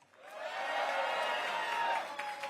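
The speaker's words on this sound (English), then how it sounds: "Let's give a big round warm of applause for Ingrid" An audience at a Diwali celebration breaks into crowd applause and cheering that swells quickly and holds steady for about two seconds before fading, heard at a distance.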